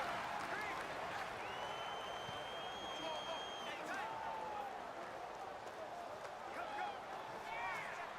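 Stadium crowd noise from the Madden 19 football video game, a Seattle Seahawks at Chicago Bears matchup, rolls on as a steady roar with scattered whistles and cheers, heard under a commentator's voice throughout.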